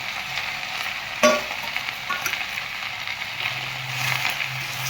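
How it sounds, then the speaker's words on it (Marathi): Safflower leaf greens being stir-fried in oil in a Maharashtrian-style home kitchen, a steady soft sizzle with a sharp scrape of the spatula near the start and light stirring clatter throughout. "तेलात आपण परतून घेऊन एकदम मिक्स करून घेऊ"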